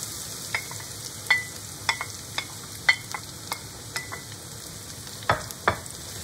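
Onion and shallot hit a pan already frying garlic while a utensil stirs them. A steady low sizzle runs beneath sharp scraping clicks at irregular intervals, close and moderately quiet, with no voices.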